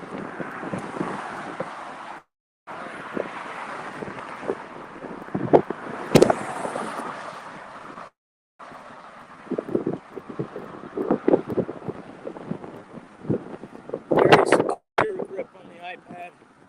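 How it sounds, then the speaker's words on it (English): Wind buffets an outdoor microphone in Key West with uneven, gusty rumbling that drops out briefly twice, while someone talks over it. "It's windy."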